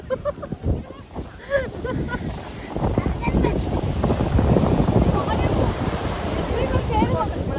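Sea waves break and wash on the shore at Alappuzha beach. The surf rushes steadily and grows fuller over several seconds, with wind buffeting the microphone throughout.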